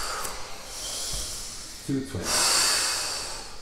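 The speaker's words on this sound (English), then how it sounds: "Let's start breathing deeper again." Deep, forceful breaths drawn in and pushed out during a breath-hold exercise at a temple in Japan, with a loud rushing inhale in the second half and a brief spoken number before it.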